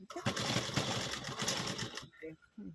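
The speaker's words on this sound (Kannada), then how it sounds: "ತಿರುಗಿಸ್ಕೊಂಡು ಸ್ಟಿಚ್ ಹಾಕೊಳ್ಳೋದು." Sewing machine stitching a folded blouse hook strip (kaja patti), a steady close rapid whirring run for about two seconds, then stopping, followed by a few short quieter mechanical clicks.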